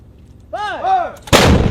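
An M777 light towed 155mm howitzer fires a single booming, broadband blast just after a loud shouted command, the report close and sharp with a short rumbling tail.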